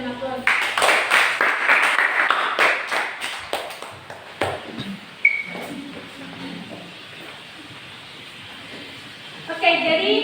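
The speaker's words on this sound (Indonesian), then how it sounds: "kita memberikan aplaus" A classroom claps for a student group, a burst of uneven hand claps that rises quickly and then thins out into scattered taps. A little chatter and room noise follow.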